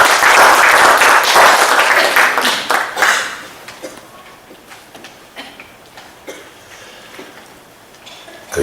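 A church congregation applauds loudly for the choir, a dense burst of clapping for about three seconds that then thins into scattered claps, shuffling and a few coughs.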